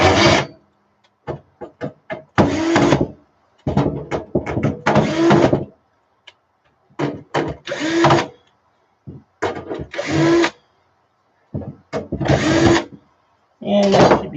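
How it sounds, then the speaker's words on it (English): Small electric screwdriver backing screws out of a computer motherboard: several close bursts of whirring, each lasting about a second, separated by silent gaps and scattered light clicks and taps. "So we will unscrew this real quick."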